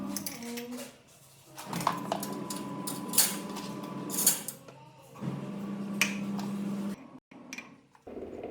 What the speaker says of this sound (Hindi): चलिए मैं किचन में बर्तन लगा देती हूँ